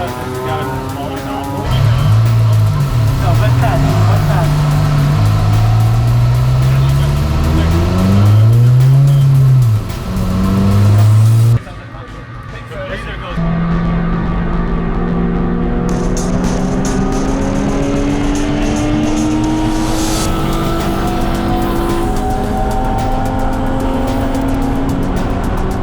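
Race cars at a Champ Car race at Sebring International scream past with loud engine whines rising and falling in pitch, continuous and close, with a brief dip midway before the roar resumes.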